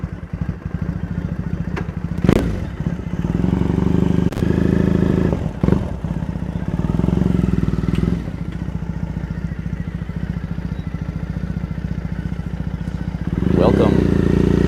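A motorcycle rides through the streets of Ikebukuro, Tokyo, its steady mid-pitched engine drone running throughout with occasional clatter and a few sharp knocks, swelling louder near the end; voices speak intermittently over the engine.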